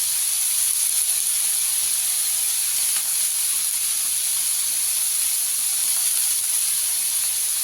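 Whole cumin seeds sizzling in hot oil in a pan while spices fry for a Bengali tomato pabda fish curry, a loud, constant bright hiss with no breaks and no talk.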